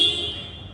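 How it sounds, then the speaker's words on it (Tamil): A short, steady electric horn beep from a Yamaha R15M 150cc motorcycle that fades slightly, close by and heard on its own. "ஹார்ன் வந்து நல்லா சவுண்டாகவே இருக்குது."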